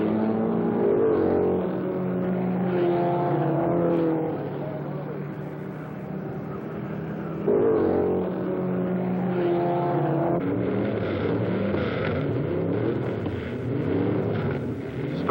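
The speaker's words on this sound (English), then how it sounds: "It's a battle for the lead into the first turn. Hall, McDonald, and Holbert roar ahead 3 abreast." Race cars at the 1963 Riverside Grand Prix roar off the start, engines swelling and fading in waves at moderate distance, with a commentator talking over the noise.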